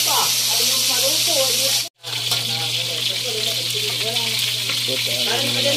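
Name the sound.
fish frying in a pan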